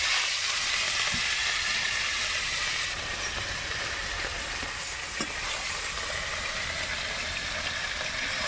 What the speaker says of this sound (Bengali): রুই মাছের পেটি দিয়েছি আলাদা সলিড খোলা ভেজে নিয়েছি আর এক খোলা ভেজে নেব